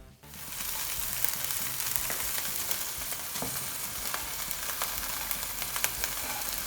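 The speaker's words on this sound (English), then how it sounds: "It is just to sear the outside so that your pastry is not soggy." Boerewors sausage searing in a hot pan before going into pastry, a loud, continuous close sizzle and crackle with scattered pops and occasional stirring scrapes, no voices.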